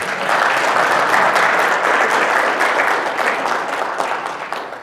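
A seminar audience of young pork farmers gives a steady, full round of applause during a talk by a soju company chairman. The dense clapping holds for several seconds, then eases slightly near the end.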